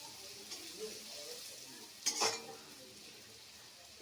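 Chopped onions sizzle and fry in a pan for Bengali mustard-paste rohu fish curry, with a steady soft hiss and a brief louder scrape of stirring near the middle.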